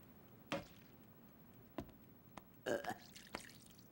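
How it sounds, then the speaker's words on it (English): A cartoon baby gives a few soft, brief burps and small wet gurgles quietly at irregular moments against a hushed background. "It's what's known as burping."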